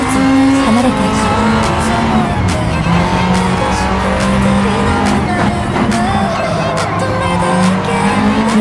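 A Honda Civic Type R EK9 on sports soft tyres racing through corners at Blue Moon Bay in Gran Turismo 7, with a loud, continuous high-revving engine whine that rises and falls and tyres squealing, and no talk.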